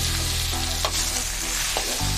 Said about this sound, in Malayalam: അപ്പോൾ സബോള ഞാൻ കട്ടി കുറച്ച് നീളത്തിൽ അരിഞ്ഞെടുത്തതാണ്. നമുക്ക് ഒന്ന് വഴറ്റിയെടുക്കാം.